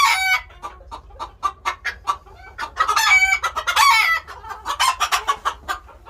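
Chickens cluck steadily around a farm poultry coop, one rooster crowing loudly near the middle, with a continuous busy chorus of hens and fowl and no talk.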